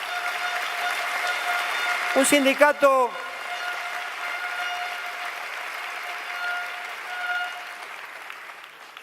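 Audience applause fills a union assembly hall during the 2017 inauguration speech of a general secretary, a steady broad clapping wash that rises and lingers for several seconds as a voice speaks over it.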